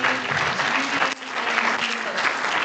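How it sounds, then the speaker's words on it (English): Conference crowd claps loudly and continuously, many hands in a room with a faint sustained tone and a few cheers or voices underneath. "A round of applause, please, everybody"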